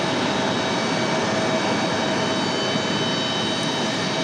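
A jet airliner departs Raleigh-Durham International for Memphis, its engines a loud, steady broadband roar with faint tonal whine, continuous throughout with no talking.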